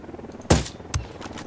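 Gunfire from the video game Ghost Recon Wildlands gives two sharp shots about half a second apart. They cut through a steady low background rumble that could be a helicopter, and the shots sound loud and fairly near.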